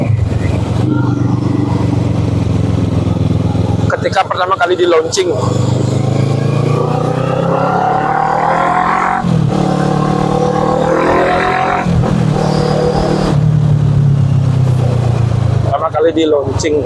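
A Kawasaki ER6N motorcycle engine rumbles and revs repeatedly while riding, pitch climbing through gear changes, with someone talking over it.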